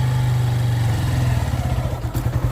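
Motorcycle engine close by, idling steadily and then revving in uneven bursts as the bike pulls away in first gear during a beginner riding lesson.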